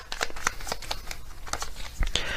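Tarot message cards are shuffled in a soft, quick flurry of papery riffles and light slaps, close and fairly quiet.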